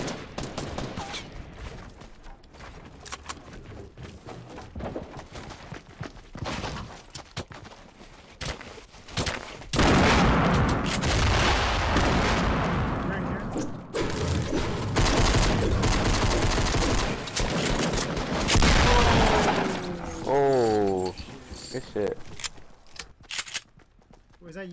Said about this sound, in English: Was that you throwing grenades?